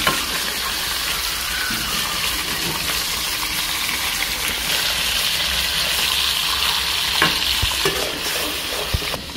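Ash gourd with a fish head being turned in a frying pan, with a continuous loud sizzle of frying and stirring scrapes throughout and a few sharp utensil knocks near the end, no voices.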